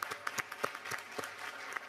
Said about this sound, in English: So I think we should give them a big applause for that.